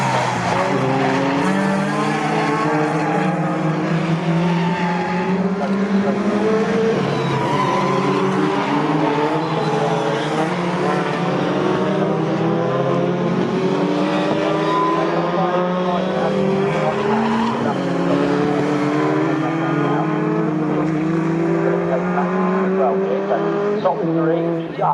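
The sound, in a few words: pickup trucks racing at Snetterton circuit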